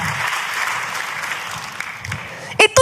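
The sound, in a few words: congregation applause in church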